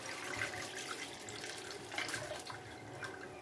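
Water poured from a one-litre metal lota into a kadhai on a gas stove, a steady close splashing pour with small drips, no talk.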